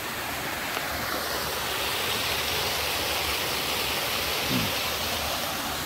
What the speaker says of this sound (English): See, that's a more substantial waterfall.